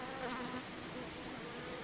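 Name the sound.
honeybees buzzing around a hive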